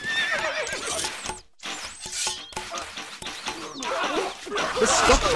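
Horse whinnying and neighing in the medieval strategy game Stronghold Crusader, loud high shrill whinnies repeating across the moment with hoof clops and a brief gap of silence.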